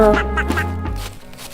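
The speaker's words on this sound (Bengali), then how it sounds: "পাতি হাঁসের ছানা আয়লা সামনে দিয়ে হেঁটে যাচ্ছিল" A cartoon duckling gives a quick run of three or four nasal quacks, close and clear.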